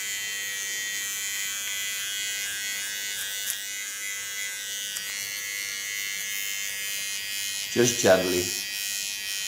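Electric fine hair clipper trimming hair during a cut and color session, a steady close buzzing hum throughout with a louder burst near the end, under soft spoken words.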